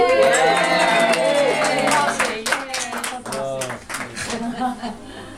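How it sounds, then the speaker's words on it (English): Guests at an engagement party break into applause, with lively clapping mixed with cheering voices and chatter. The sound is loud at first, then tapers into scattered claps and talk. "let's give the posse a round of applause"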